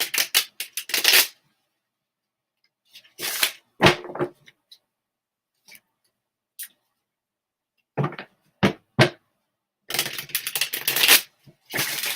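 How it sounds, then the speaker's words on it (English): Tarot cards are shuffled in quick papery riffles and flutters, coming in separate bursts between pauses of near silence. "I will try and feel when it is a good time for us to stop shuffling."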